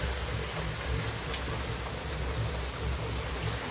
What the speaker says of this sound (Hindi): अब देखें आप कितनी ज़्यादा तेज़ बारिश हो गई है।